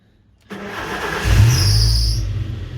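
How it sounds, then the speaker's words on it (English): A car engine starts, a short cranking whir catching into an idle that rises and settles, close and loud, with a faint squeal on top. "Start the car up"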